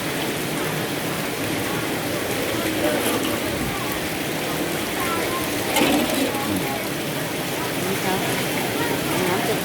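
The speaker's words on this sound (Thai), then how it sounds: "ฝนตกแรงมากมากเลยค่ะ" Heavy rain pours down at a Thai home, a dense, loud and unbroken hiss with a spattering quality and a brief surge midway, and no speech.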